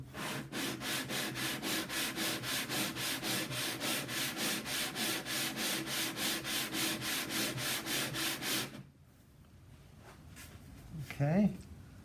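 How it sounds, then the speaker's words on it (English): A wooden guitar top is hand sanded in steady back-and-forth strokes, about three per second. The loud, rhythmic rasping lasts most of the time, then stops, leaving quieter handling noises. "So I'm just going to keep sanding a little bit."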